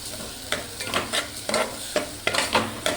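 Dried and green chillies sauté in a hot pan, a steady sizzle broken by repeated scraping stir strokes at a quick, uneven rhythm, close and clear with no talking.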